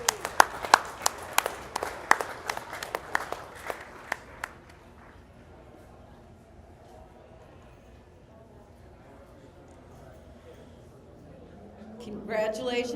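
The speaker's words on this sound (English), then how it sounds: "Let's give both those exhibitors a really nice round of applause." Sparse, distinct claps ring out across a large dairy show arena for exhibitors, a scattered few hands for about four seconds before dying into quiet room tone, with a voice rising near the end.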